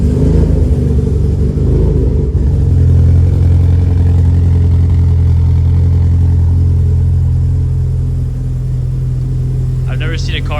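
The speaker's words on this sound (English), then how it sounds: "I've never seen a car start up so fast after it's been sitting for so long." A Subaru WRX STI left sitting for six years starts and settles into a loud, steady low idle, its engine rumble continuous and close throughout, with a brief higher rattle near the end.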